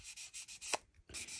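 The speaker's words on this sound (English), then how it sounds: "I do a dry sand, and then I brush it off, wipe it off" Dry sanding of primer on a Revell 1968 Pontiac Firebird 400 scale model car body, close, quiet rhythmic rubbing strokes, several short passes with a brief pause, no talk.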